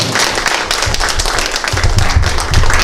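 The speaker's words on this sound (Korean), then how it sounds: "박수 안 치기로 했는데 이러셨군요." Applause from the audience at a local council candidates' debate ahead of a municipal election, a steady dense patter of hands clapping that fills the whole moment with no voice over it.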